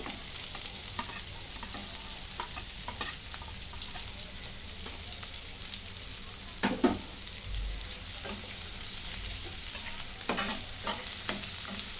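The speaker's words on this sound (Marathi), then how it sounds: "आता कांदा मी जरा भाजून घेते." Finely chopped onion fries in a pan for an egg hariyali dish, giving a steady close sizzle with occasional scraping stirs and clinks of a spoon, with no talking.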